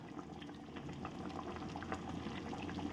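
A raw banana dhoka curry bubbles in a pot over a high gas flame, giving a dense, continuous boil with close, busy popping and no voices.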